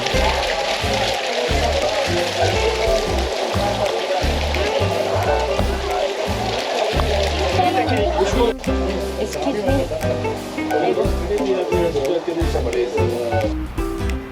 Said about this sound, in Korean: 좀 전까지 좋았던 날씨가 이렇게 비가 오다니 정말 신기합니다.